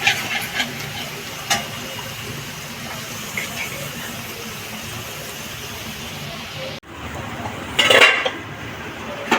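Snake gourd pieces tipped into a pan for a potato and snake gourd chorchori and stirred, with steady clattering and scraping of a utensil against the pan, a brief break, then a sharper clink.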